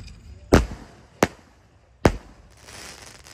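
Large roman candle firework with four shots launching outdoors, three sharp, loud bangs spaced under a second apart followed by a fading hiss.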